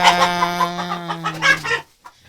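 Hens clucking close by in a steady, busy run of calls that stops abruptly, leaving a short quiet pause, on a farm with Vietnamese pot-bellied pigs.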